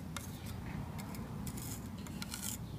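A small putty knife scrapes and presses wood putty into a doorknob hole in a cabinet door, making close, irregular rubbing and rasping strokes with light ticks between them, with no one talking.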